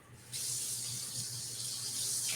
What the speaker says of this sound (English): I'm just gonna top this off with some water